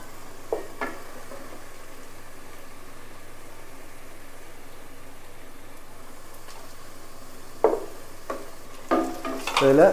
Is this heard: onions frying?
yes